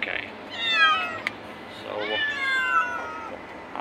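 Cats meow repeatedly on the way to the vet for their shots, two distinct drawn-out, whining meows over a low steady car hum, with a brief spoken word between.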